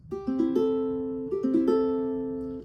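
Plucked ukulele open strings in standard tuning ring out one after another, then strum together and sustain; a second pass repeats the sequence, clear and close.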